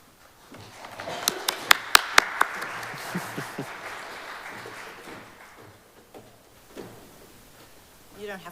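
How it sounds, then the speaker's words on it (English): A church congregation at a Sunday service at Arlington Street Church breaks into applause, a few sharp claps swelling into a steady round of clapping that fades into a voice speaking. "You don't have to applaud, but thank you."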